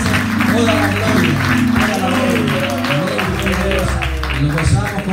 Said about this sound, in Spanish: Cuánto le dan aplauso a Cristo de la gloria